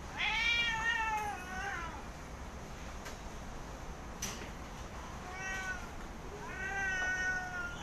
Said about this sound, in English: I think that's the cat that wants to make a lot of noise.